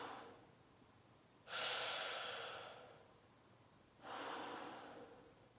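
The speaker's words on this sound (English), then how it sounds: "is breathe in and out slowly into cupped hands." Slow breaths in and out through cupped hands, two long airy rushes a few seconds apart, close and soft, each swelling quickly and then fading gradually, with no talking.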